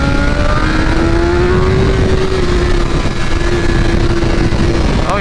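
A 2023 BMW M1000R with a BT Moto ECU flash tune pulls hard, its engine holding a loud, close, steady tone that slowly climbs and settles, with wind rush and a brief change near the end.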